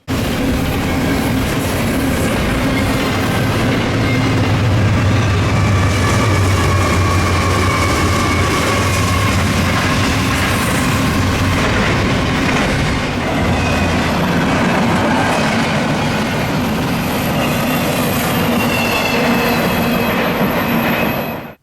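A Norfolk Southern freight train with C6M locomotives rumbles past loud and close, a continuous heavy roar of wheels and rail noise with faint squeals, holding steady throughout.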